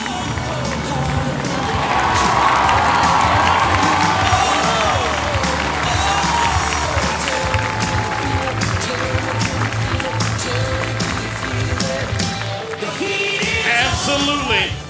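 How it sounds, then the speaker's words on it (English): Crowd cheering and shouting at an outdoor water ski show, a broad, loud, sustained wash of many voices with some clapping, continuing steadily throughout. "So what do you say we get behind them and cheer them off?"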